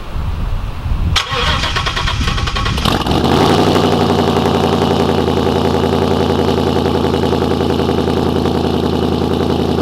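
Ford Mustang cold start: a brief starter crank, then the engine catches with a loud rev and settles into a steady, close rumbling idle.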